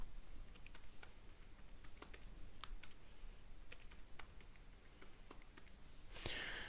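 Someone types a password on a computer keyboard in a quiet room, producing a faint run of light, irregular key clicks, alone and without speech.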